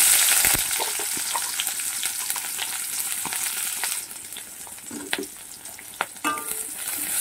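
Chopped onion hits hot oil in a pan, bursting into a loud, steady sizzle that continues with scattered stirring clatters and pops, close by.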